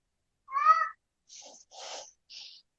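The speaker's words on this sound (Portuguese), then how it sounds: "É um gato miando aqui." A cat meowing indoors: one clear drawn-out meow followed by three shorter, softer mewing calls with brief gaps between them.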